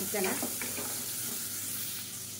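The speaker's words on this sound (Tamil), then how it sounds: "சேர்த்துட்டு நல்லா வதக்கி விட்டுக்கலாம்" Bone-in chicken pieces sauté in a hot pan for a chicken soup, giving a close, steady sizzle with brief stirring scrapes, and a faint voice under it.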